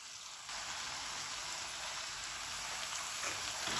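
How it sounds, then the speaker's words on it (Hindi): Water poured into a frying curry pan, cooked without tomato or onion, gives a steady broadband hiss and sizzle that jumps louder after a moment and holds evenly, close and alone with no talk. "अब इसके अंदर मैं थोड़ा सा पानी डालूंगी"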